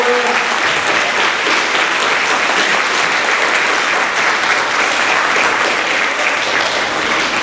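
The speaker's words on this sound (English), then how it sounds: "Can we get a round of applause for our soloists?" Sustained applause from a large audience at an elementary school spring concert, steady and loud throughout with no break, a dense wash of clapping hands.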